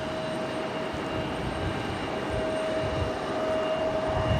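Frontier Airlines flight 3322 from Miami, wearing Carmen the Black Bear livery, arrives into wind at Raleigh-Durham. A steady, fairly distant jet roar holds level throughout, with a faint thin whine running over it.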